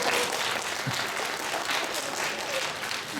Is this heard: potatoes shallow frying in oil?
no